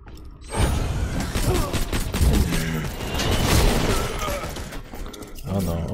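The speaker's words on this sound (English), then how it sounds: "This pistol, I can attack from so far away, and yet still hit most of my shots." Rapid pistol gunfire in the shooter game Borderlands 2, a dense run of sharp shots with clattering impacts and game effects, loud and fairly continuous, with a voice speaking over it.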